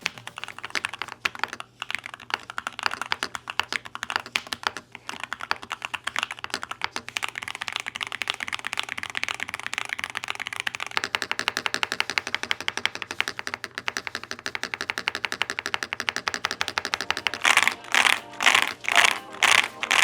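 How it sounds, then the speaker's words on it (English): Rapid, continuous clacking of keys on a mechanical keyboard, close and crisp, with a few louder, slower key presses near the end. "you get a satisfying, mild, clacky typing sound"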